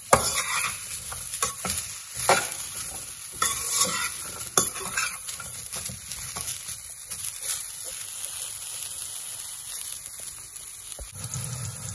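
Sliced bitter gourd frying in oil in a pan, a constant crackling sizzle like light rain, broken by intermittent stirring scrapes, close and moderately quiet.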